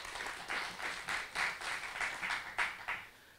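A theatre group receives applause from a lecture-hall audience, hand clapping in steady rhythmic surges that rise and fall for several seconds, fairly close and filling the room without any talk over it.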